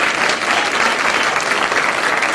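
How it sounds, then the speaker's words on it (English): A ballroom audience at a county youth awards dinner gives a steady, full round of applause, many hands clapping close and evenly throughout. "So let's give them a round of applause."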